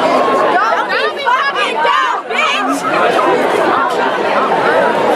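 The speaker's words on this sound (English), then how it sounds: "A raucous crowd here tonight" Loud, raucous crowd at a night high school football game between Dunbar and Mervo, continuous dense chatter and shouting from many voices close by.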